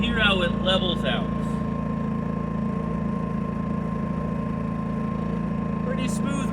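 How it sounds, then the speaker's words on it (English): A Predator 2000 generator idles smoothly, with a steady even hum running close and constant, while a voice speaks briefly over it at the start and again at the end. "Pretty smooth running generator."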